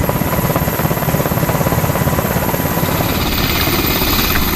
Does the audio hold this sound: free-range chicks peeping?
no